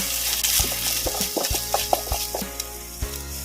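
Onion with ginger-garlic paste sautéing in a pan: a close, steady sizzle with repeated quick scraping and tapping strokes as it is stirred, and no voices.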